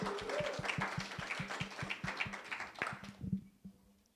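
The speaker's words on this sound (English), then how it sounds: "So give yourself a round of applause for that." Audience applause in a lecture hall at an improv talk, a dense burst of many hands clapping that fades out over about four seconds.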